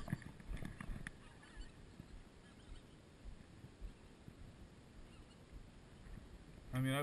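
Geese honking at a sewage-fed wetland, calls scattered through steady outdoor noise, somewhat distant and not very loud, with a louder burst near the end.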